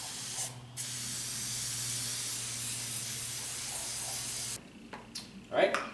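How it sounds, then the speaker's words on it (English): A steady aerosol spray of oil onto a K&N air filter for a PT Cruiser GT hisses close by for several seconds, then cuts off, followed by a few faint handling noises. "We're just gonna spray about 3 inches away, back and forth, until everything looks pretty well coated."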